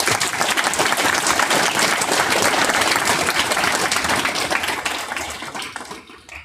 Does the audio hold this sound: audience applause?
yes